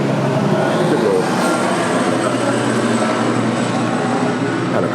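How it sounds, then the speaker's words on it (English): A helicopter passing overhead produces a steady, broad rumbling drone that holds evenly for several seconds at fairly close range, with no pauses. "Helicopter, actually."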